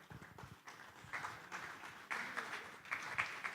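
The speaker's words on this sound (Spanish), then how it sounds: "lo recibimos con un aplauso" Conference audience at a national crop-protection congress clapping to welcome a panel moderator, a short burst of close, uneven applause that swells and keeps going.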